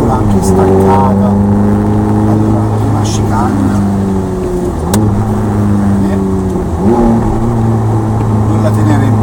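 Ferrari 430 engine revving hard on a wet Mugello circuit, heard from inside the car at high speed, the tone climbing and dropping through gear changes while a person talks over it.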